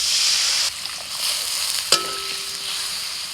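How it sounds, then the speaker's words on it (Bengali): A pan of chutney being stirred, with a steady frying hiss, a short knock near the middle and a brief ringing clink of utensil on the pan. "একটু নাড়াচাড়া করে নিয়ে জল দিয়ে দিচ্ছি"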